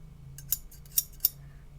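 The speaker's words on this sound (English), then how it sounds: "Little pair of scissors." Small scissors snip three times in quick, crisp metallic clicks against a quiet hum.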